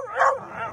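A dog yips sharply once and then whimpers briefly, close and fairly loud, with no talking.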